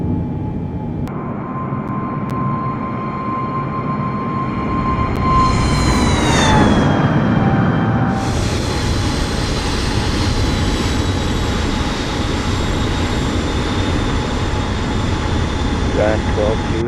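Boeing 747 taking off in Microsoft Flight Simulator, a loud steady jet engine roar with a whining tone that shifts as the aircraft rotates and climbs, with people talking over it.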